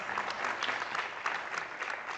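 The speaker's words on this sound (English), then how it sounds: "Can we give our panelists a big round of applause?" A conference audience gives the panelists a round of applause, a dense, even wash of clapping from a crowd, moderately distant.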